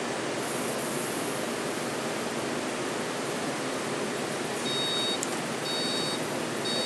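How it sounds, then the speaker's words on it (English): Short electronic beeps from a La Cimbali espresso machine repeat near the end, sounding over a steady broadband hiss that fills the whole stretch. "you'll actually hear it beeping at you"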